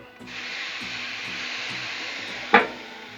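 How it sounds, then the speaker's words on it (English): Water steams under a dome on a Blackstone griddle over bacon buffalo potato crisps with melting cheese, giving a steady close hiss and ending with a short sharp sizzle burst. "Add a little water, steam it, melt that cheese down."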